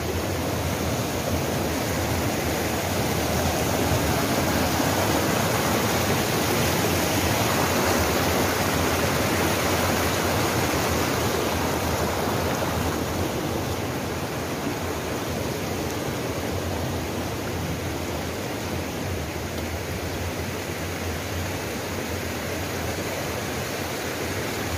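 Steady rushing water from the Tubigdaku River in Sogod, Southern Leyte, flows at full volume as a constant broadband roar without pause for the whole stretch, and no voices are heard.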